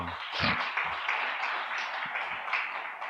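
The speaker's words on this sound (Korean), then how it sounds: "좋은 그 답변을 해주신 분들을 위해서 감사 박수" A congregation at a women's mission dedication service at a church claps in thanks, a brief burst of scattered applause, fairly soft and even, lasting a few seconds.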